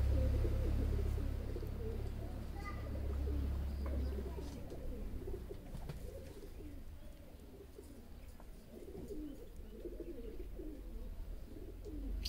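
Pigeons coo in soft, repeated low phrases at a pigeon-pairing loft in Rawalpindi, over a steady low rumble and faint background voices.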